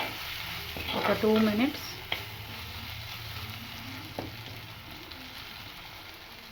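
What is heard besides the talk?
stirring and frying cumin and coriander masala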